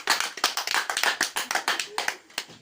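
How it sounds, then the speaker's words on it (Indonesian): A small group claps for the first group at a stunting-prevention session, a short run of distinct, fairly quiet hand claps in an uneven rhythm, with faint talk in the background. "Ya, tepuk tangan buat kelompok 1."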